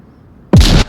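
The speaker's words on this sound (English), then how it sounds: "Them answering with another nade." A single loud grenade blast in a competitive video game match bursts in suddenly after near silence, sharp and close, then decays quickly.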